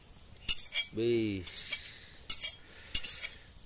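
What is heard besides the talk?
stirring tomato and cabbage in a pot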